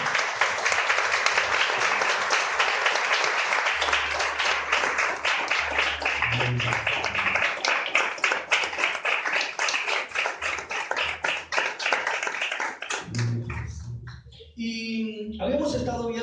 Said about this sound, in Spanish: Un aplauso de que vive